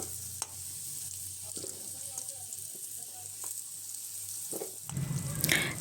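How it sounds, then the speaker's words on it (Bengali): Cut potatoes frying in hot oil in a pan, a steady close sizzle with occasional stirring scrapes, rising louder near the end. "এরপর কেটে রাখা আলুগুলো আমি লাল লাল করে ভেজে তুলে নেব।"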